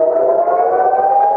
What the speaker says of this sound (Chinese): 防空警报大作